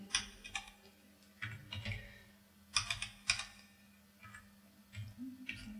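Keywords are typed on a computer keyboard, soft close clicks falling in short irregular bursts separated by brief pauses, with a faint steady hum underneath.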